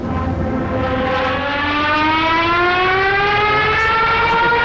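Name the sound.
Stuka dive bomber siren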